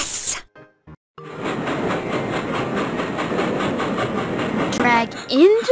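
A train sound effect from a kids' preschool phonics game plays loud and steady for several seconds, with rhythmic clickety-clack and hiss after a brief quiet gap, ending with a short burst of other game sounds.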